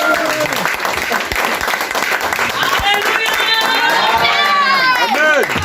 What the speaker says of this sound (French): Je vais voir une femme acclamer très fort le Seigneur